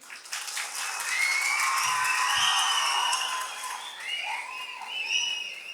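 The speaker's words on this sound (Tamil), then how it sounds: "நல்லா கைத்தட்டுங்க பார்ப்போம்." A crowd at a DMK political rally claps steadily, a broad sustained patter that swells and eases, with a few faint voices mixed in.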